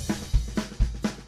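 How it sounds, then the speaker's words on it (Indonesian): Drums are played in a steady beat, with deep kick hits alternating with sharp snare strikes, loud and close. "Ya, ini suara drum."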